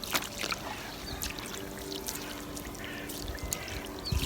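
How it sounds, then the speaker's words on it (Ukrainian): Water is poured evenly over a freshly cast concrete slab, a continuous close splashing trickle with scattered louder splats, heard alone without talk. "обов'язково мінімум двічі на день треба все залити водою, повністю все рівномірно"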